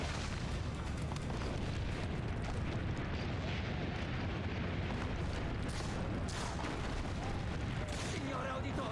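Heavy cannon fire and rumbling explosions in an Assassin's Creed battle, a dense continuous barrage of booms and blasts with game voices talking over the din.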